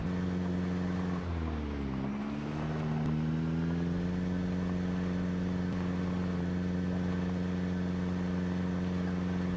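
A car engine in the Project Zomboid video game idles with a steady low drone, dips and falters briefly near the start as if sputtering, then settles back into a continuous rumble; no talk.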